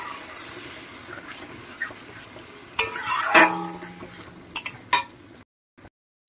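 Spice paste for a fish curry with raw banana and potato frying in a pan, a low steady sizzle broken by scraping stirs and clinks of a spoon, ending abruptly in silence.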